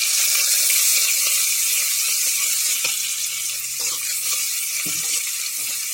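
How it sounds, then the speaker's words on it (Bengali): Chopped onion and green chili sizzle in hot oil in a pan, a steady bright frying hiss with occasional stirring clinks and scrapes, close up and with no talking. "পেঁয়াজটা একটু ভেজে নেব।"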